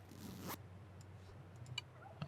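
Tent zipper from the video game Eco, a single quick rising zip drawn close and clear, followed by a few faint clicks and scrapes in a quiet background.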